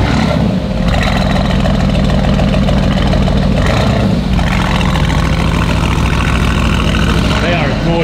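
A 2019 Aston Martin Vantage engine runs steadily with a loud, continuous rumble and some revving swells, while people talk and exclaim over it throughout.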